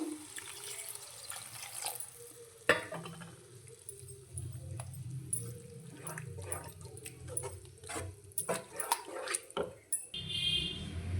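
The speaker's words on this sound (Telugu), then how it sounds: "ఇప్పుడు వాటర్ వేస్తున్నాను" Water is poured into an egg and drumstick curry in a cooking pan, making a quiet, uneven splashing and trickling sound with a few clinks of utensils against the pan.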